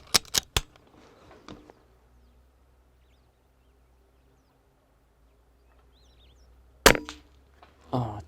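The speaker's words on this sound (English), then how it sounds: "Oh, two beautiful cracking shots" Daystate Delta Wolf air rifle firing at house sparrows at about 35 meters: a few sharp cracks and clacks at the start, then a long quiet stretch before another sharp crack and a brief clatter near the end, with faint birdsong between.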